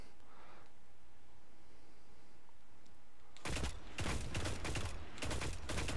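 Hakke Zarinaea-D auto rifle from Destiny, fitted with an LD Watchdog scope and rifled barrel, fires in loud sustained bursts after about three seconds of quiet ambience, with short pauses between strings of rapid shots.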